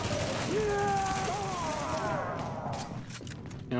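Gunfire in The Division video game crackles as a dense, continuous roar with scattered sharp bursts near the end, while someone speaks in French over the shooting.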